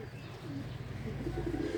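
Soft, low cooing of pigeons in a cage murmurs steadily under a background hum, with no voices.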